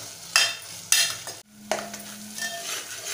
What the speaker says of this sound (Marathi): 1-2-3 मिनटं आपण परतून घेऊया.